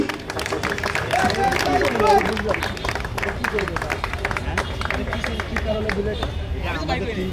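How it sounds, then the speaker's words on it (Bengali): A crowd at a cricket team's prize ceremony breaks into applause, with dense, steady clapping running through the whole stretch and a loud announcer's voice talking over it. "সবাই একটা করতালি দেই।"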